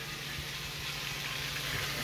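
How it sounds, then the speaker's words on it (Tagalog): Boneless bangus milkfish belly frying in a pan, a steady soft sizzle and crackle throughout at a moderate level, with no talking. "Nagpiprito tayo."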